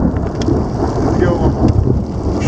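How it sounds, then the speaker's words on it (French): Loud thunder rumbles close overhead during a storm with hail, mixed with a steady wash of rain on surfaces and occasional sharp drops, filling the whole stretch with no talk. "C'est un beau tonnerre live, ça, mon ami!"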